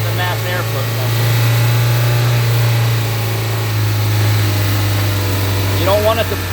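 A car engine with direct injection and carbon buildup on the intake valves runs steadily during a cleaning treatment, a loud low constant hum with a faint hiss, while someone talks over it.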